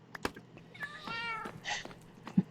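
Cats meowing in a video game: a few short clicks, then a clear drawn-out meow followed by a second brighter, shorter meow, close and alone with no talking.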